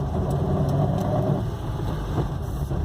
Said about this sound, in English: You're also going to hear the first gear rumble.